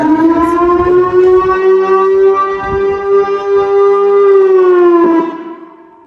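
A village siren wails before dawn during Ramadan to wake people for sehri, one long steady rising tone held loud for about five seconds before fading away, with no talking.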